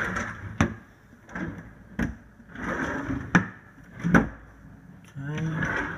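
Kitchen drawers and cupboards in a Mount Waverley unit are opened and shut in sequence, giving about six sharp wooden knocks and slides spaced roughly a second apart, close by, with a brief voice near the end.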